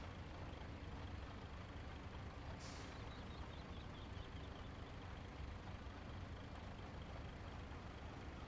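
A truck driving in the video game Roadcraft, a steady low engine rumble and road noise throughout, with a brief hiss partway through.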